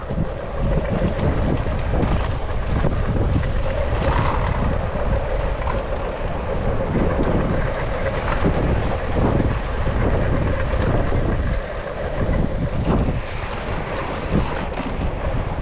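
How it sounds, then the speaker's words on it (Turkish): Strong wind blowing from below roars and buffets the microphone in a constant loud rush for the whole stretch, with no voices, on a cold, rainy roadside. "Ama Şimdi alttan çok rüzgar geliyor."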